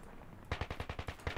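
A rapid string of about nine evenly spaced gunshots in a video game, close and punchy, each with a thumping low end, starting after a short stretch of quiet background.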